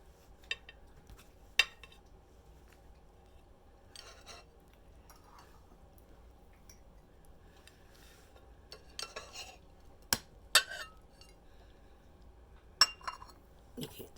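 Metlox daisy-pattern dishes being handled on a table, giving scattered sharp ceramic clinks and clatters over quiet room tone, some louder knocks standing out among softer taps.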